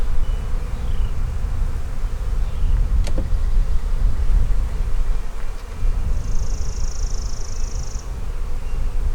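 A steady hum of honeybees buzzing around an opened hive being reassembled, continuous and close, with a brief higher-pitched drone passing near the end.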